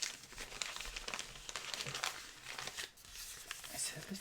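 A little battered piece of paper crumpled by hand as Foley: quiet, irregular crinkling and rustling bursts that continue throughout, with a voice speaking over it.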